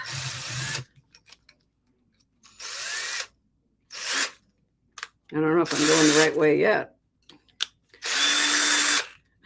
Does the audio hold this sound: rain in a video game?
no